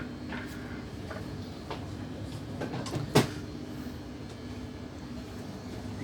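Door on an Omneo Premium Normandie regional train operating in a station, a sharp thump and clatter of the mechanism amid quiet carriage ambience with scattered faint clicks and knocks before and after.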